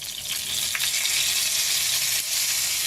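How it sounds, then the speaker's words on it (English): Steady, close sizzling of spices and curry paste frying in hot oil, a dense hiss with a few small pops, continuous throughout and no talking. "they're starting to make a popping sound there, the spices, as it heats up in the oil."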